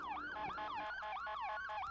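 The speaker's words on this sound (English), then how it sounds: "The sirens announced their arrival." A wailing siren cycles up and down repeatedly, loud and steady, with a rapid yelping pattern and no voices.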